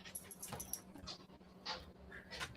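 Dog whimpering and panting, with thin high-pitched whines and breathy pants repeating irregularly, close but quiet, with no talking.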